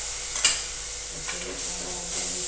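Food frying in a pan with coriander powder, lemon and roti, under a steady close sizzle with a few light scraping stirs.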